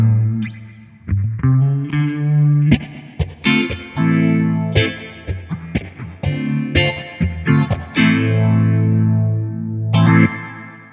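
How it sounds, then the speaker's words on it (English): Electric guitar played through a pedalboard scene set for a basic classic amp spring reverb tone, loud distorted chords and picked notes ringing out with rhythmic stabs and trailing reverb, no voice. "this will just get you a basic kind of spring reverb sound"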